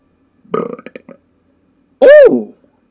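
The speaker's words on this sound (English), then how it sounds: "Damn, that was a good burp" A loud, resonant burp erupts close up after a short burst of a man's speech, rising and falling over about half a second.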